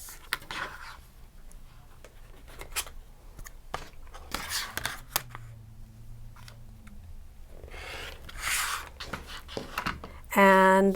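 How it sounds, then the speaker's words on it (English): Fabric being cut along a template to make a 36-inch strip for a quilt block, with faint intermittent snipping and rubbing sounds in short bursts at close range, and a person speaking between them. "I'm matching these dots, and I'm just going to cut that."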